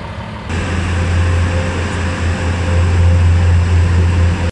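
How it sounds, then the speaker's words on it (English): A manlift vehicle's engine idles steadily and loudly with a low constant hum, close and continuous throughout, with no voices. "Manlift."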